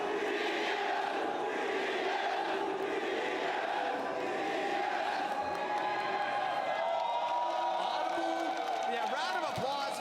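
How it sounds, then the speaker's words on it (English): Esports arena crowd at a T1 versus Top Esports grand final roars in a dense, sustained wall of chanting and shouting voices, loud and continuous for the whole stretch. "So we're gonna do the battle chant."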